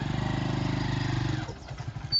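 A motorcycle engine revs hard in first gear on an uphill climb with a throbbing, pulsing note, then eases off and drops toward an uneven idle.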